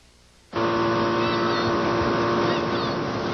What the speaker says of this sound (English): The boat was going in a pretty good full circle at full throttle